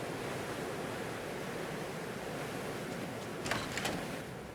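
Sea waves in the video game Chained Echoes, a continuous soft roar of surf washing steadily, with a couple of faint clicks near the end.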